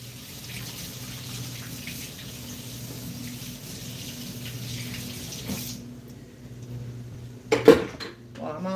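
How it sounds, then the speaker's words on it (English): A kitchen tap runs steadily into a sink during hand washing at home, a continuous close hiss with faint clinks of dishes, cut off near the end by a few brief knocks and splashes. "Let me wash my hands"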